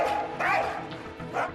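A hunting dog gives an odd, strained yelping cry, half bark and half whine, in several close, loud bursts.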